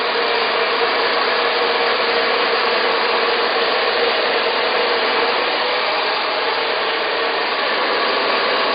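A hair dryer blowing steadily while a stylist dries a client's hair in a salon, a loud continuous airy roar that holds the same level throughout with no pauses.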